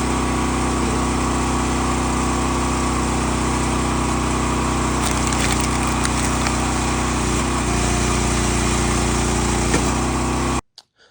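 Gas engine on a Ruggedmade log splitter fitted with a 28 gallon per minute hydraulic pump and dump valve, running steadily and loudly close up with a constant droning hum, then cutting off abruptly at the end.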